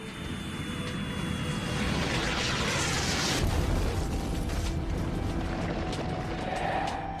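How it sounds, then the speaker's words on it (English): Rumbling, booming impacts of comets and asteroids pounding the early Earth, a continuous loud roar with heavy low rumble and bursts of crackling debris throughout. "For about the first 600 million years, comets and asteroids pounded our planet."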